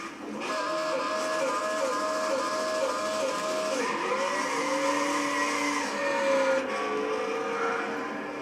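A drag-tuned Pontiac GTO 5.7 Coupe launches in Gran Turismo 6 with a loud, continuous engine drone whose pitch climbs and shifts around the gear changes, alongside a faint tire hiss, and no talking.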